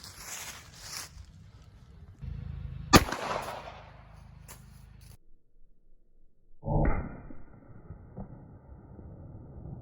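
A single sharp .380 ACP gunshot, fired with a 90 grain Hornady XTP hollow point into ballistics gel, cracks out at close range against quiet outdoor background noise.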